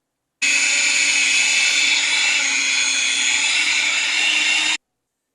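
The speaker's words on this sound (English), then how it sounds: "especially with a hand mixer like this" An electric hand mixer whirs steadily as it beats cheesecake batter in a bowl, a loud, continuous high-pitched motor drone that starts abruptly, holds even for about four seconds, and cuts off cleanly, with no talking.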